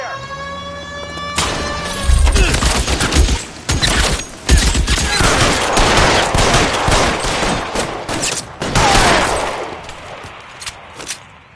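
Gunfire crackles in a video game shootout in L.A. Noire, with loud rapid volleys and single shots over a wailing siren at the start. The firing comes in bursts with brief lulls and fades toward the end.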